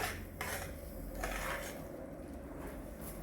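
Rice flour being stirred into boiling water in a cooking pot: a soft, steady scraping and swishing of the spoon against the pot under a constant background hiss, with a few faint knocks.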